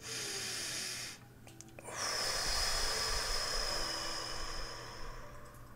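A long, slow breath drawn in and let out during a calm guided meditation, close and airy, rising after a brief quiet pause and holding steady.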